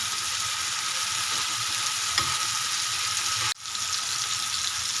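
Tomato and egg gravy sizzles steadily in a pan after green chilli goes in, a dense continuous frying hiss with a brief interruption near the end and no talking.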